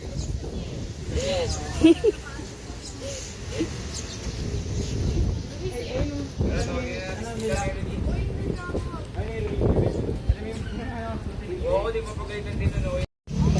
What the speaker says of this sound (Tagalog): Mahangin guys. Mahangin. Mahangin po.